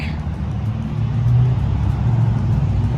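Pickup truck with a 428 Cobra Jet V8 idling nearby, a loud deep low rumble that swells slightly midway and holds steady.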